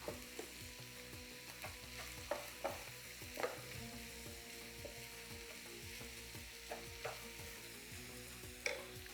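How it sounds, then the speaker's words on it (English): Ground beef with ground coriander and other spices frying in a pan, a soft sizzle under evenly spaced scrapes and taps as it is stirred, close and moderately quiet. "Let's stir everything"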